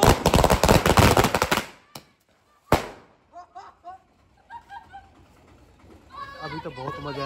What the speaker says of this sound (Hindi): इतने पटाखे एक साथ रख दिए इसमें